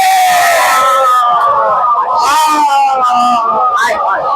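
Crowd at a majlis chanting religious slogans, loud massed voices rising and falling in rhythmic calls, close and filling the space.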